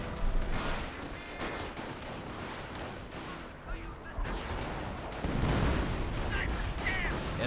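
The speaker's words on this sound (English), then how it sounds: "I heard something explode" Explosions and gunfire in a Company of Heroes 1 battle with Wehrmacht troops and a sniper, dense crackling shots and booms throughout, a heavier blast near the middle, with background battle chatter.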